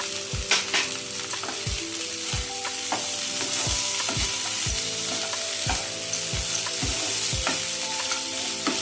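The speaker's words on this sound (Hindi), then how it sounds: "अब इसमें हम मूंगफली के दाने मिला देंगे।" Sabudana khichdi sizzles steadily in a pan as peanuts are stirred in, a spoon scraping and tapping against the pan in regular close strokes, about a dozen sharp knocks over continuous frying noise, with no talking.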